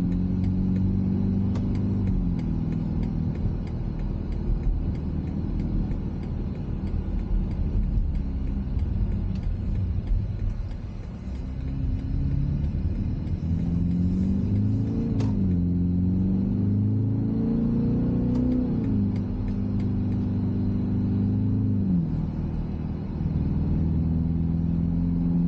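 A 2025 BMW X3 30 xDrive accelerates onto a highway, heard from inside as a steady engine rumble that rises and shifts in pitch through gear changes over road noise, without talk.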